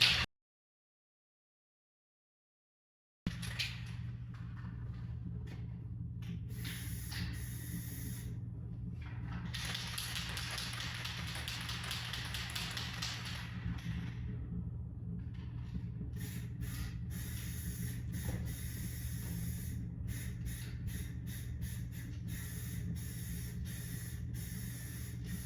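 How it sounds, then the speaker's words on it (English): Spray painting inside a paint booth while a Pro R off-road race vehicle is prepared, with a steady hiss of spray and booth ventilation running continuously over a low hum, broken by brief pauses in the spraying. "this is a paint booth and I'm just spray painting"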